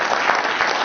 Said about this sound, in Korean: 일단 박수 한번 치고